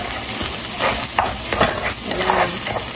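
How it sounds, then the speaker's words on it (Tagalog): An egg fries in a pan with a steady close sizzle, overlaid by a few scraping stirs from a utensil, with no talking. "Pantayin lang natin maluto yung itlog."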